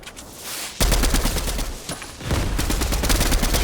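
Video game gunfire in rapid bursts, a loud dense volley of shots that starts abruptly after a quieter opening, dips briefly, then resumes close and sustained with no talking.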